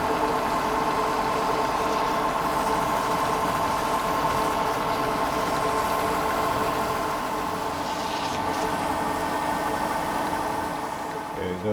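Turned wood bowl spinning on a lathe at around 250 to 300 RPM while 400-grit sandpaper is held lightly against it, a steady motor hum with soft continuous hiss of abrasion, no pauses.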